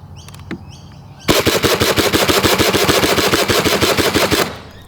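Nerf Challenger Mk3 Pro Max blaster firing full auto, a fast even stream of loud close shots at about six per second for roughly three seconds, after a few faint clicks beforehand.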